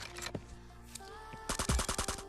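Rapid automatic gunfire in the battle royale game Scarfall 2.0: a few scattered shots early on, then a dense, loud burst of repeated cracks in the final second, with no talk over it.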